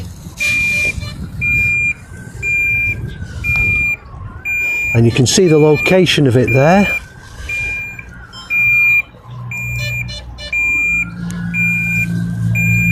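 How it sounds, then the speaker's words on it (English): Regular high-pitched electronic beeps from a DJI Neo 2 drone's Find My Drone locator repeat steadily, interrupted midway by a person speaking briefly, with low background hum. "start flashing and beeping"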